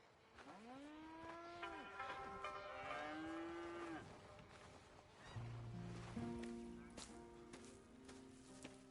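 Dairy cattle in a PlayStation 4 farm game moo in long rising and falling calls, two drawn-out bellows followed by lower steady tones, heard clearly over faint ambient game background without talk.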